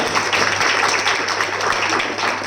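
An audience at a stem-cell product presentation claps together in a sustained, even round of applause, moderately loud and filling the room with no speech over it.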